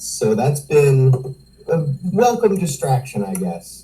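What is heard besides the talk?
No distinct noise like a dog, phone or traffic.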